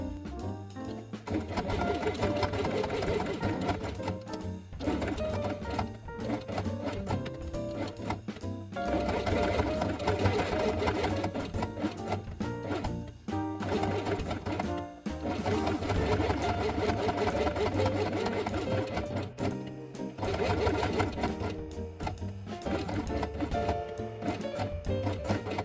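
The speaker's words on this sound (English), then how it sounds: "sew along the edge with white thread" A sewing machine stitches white thread along the edge of fabric pieces for a handmade quiet book, running in long steady bursts with brief pauses between them.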